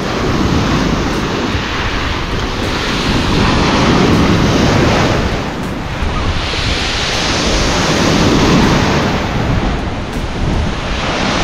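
Strong ocean waves at Buyaran Beach surge and break continuously, a loud, dense roar of surf with wind buffeting the microphone, swelling and easing in slow cycles with no voices.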